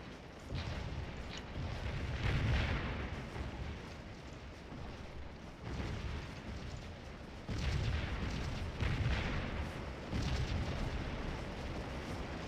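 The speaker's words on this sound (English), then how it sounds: "Look at these guns just plowing us with canister." Civil War artillery firing canister during the Battle of Stones River in Scourge of War, heavy booming blasts rolling one after another over a constant rumbling battlefield din, loud and sustained with no voices.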